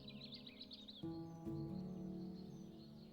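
A warbler's song trills in quick high chirps in the bird-themed board game Wingspan, then gives way to steady tonal game music and a brief clack.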